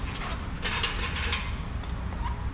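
A spring puller stretches Akrapovic exhaust springs on a 2024 BMW S1000RR, giving close, faint creaking and ratcheting metallic scrapes over a low steady background.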